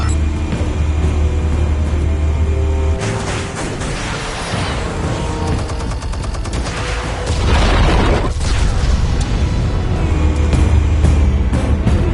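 Explosives go off in the Batman Telltale Series video game: heavy booming rumble and crashing debris, with a sustained low roar that swells loud and dense across the whole stretch.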